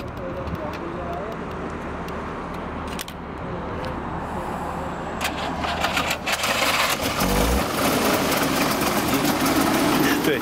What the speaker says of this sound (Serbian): On hoće da upali auto.